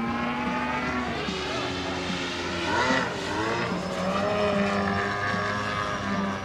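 A model aircraft's high-pitched buzzing engine roars steadily at full throttle during aerobatic manoeuvres, its pitch bending as it passes and turns.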